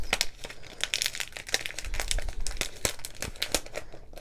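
Plastic packaging being torn and ripped open by hand, a close, busy run of crinkling and tearing bursts at an uneven rhythm with no talking.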